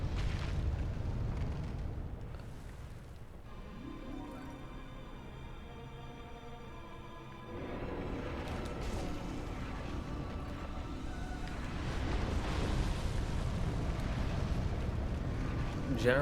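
A fire burst erupts in the Dark Souls game during a boss fight, heavy rumbling and roaring that swells loudly after a steadier droning stretch, with speech present alongside.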